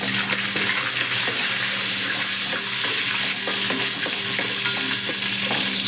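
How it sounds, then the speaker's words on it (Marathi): Whole spices and asafoetida crackle and sizzle loudly in hot oil in a pan, a dense constant hiss with repeated scraping taps of a spoon stirring, close by and without talk. "हे खडे मसाले घेतलेले आहेत ते घालून घ्यायचे आहेत। हे व्यवस्थित मिक्स करून घेऊयात।"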